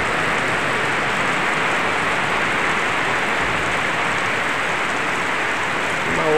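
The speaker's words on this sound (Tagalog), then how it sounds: "Ang lakas ng ulan." Heavy rain pours down in a loud, dense, unbroken roar of drops hammering surfaces, constant from start to finish with no voices.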